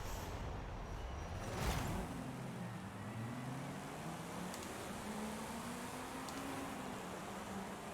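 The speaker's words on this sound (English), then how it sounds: "Mash the gas all the way down" Video-game car engine in Forza Horizon 5, a budget drift build, revving up under full throttle, its droning tone sweeping upward and holding steady over a continuous rushing road and wind noise, fairly faint.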